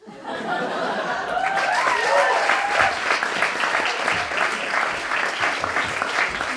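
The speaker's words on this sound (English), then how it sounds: "I should have left on the applause." An audience applauds loudly and steadily, with some laughter mixed in at the start.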